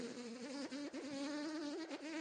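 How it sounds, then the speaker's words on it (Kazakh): Mosquitoes whining in a continuous high-pitched buzz on a summer early morning at six, close and steady for a couple of seconds with slight wavering pitch, no voices. "Менің ұйқымды масалар бұзды."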